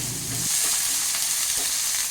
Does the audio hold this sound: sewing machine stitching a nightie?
no